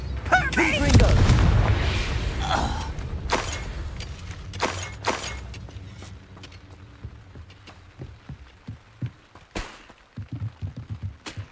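A Confringo fire spell explodes in Hogwarts Legacy with a deep, loud boom and a shattering crash that rolls off into scattered debris clatter and smaller cracks over several seconds.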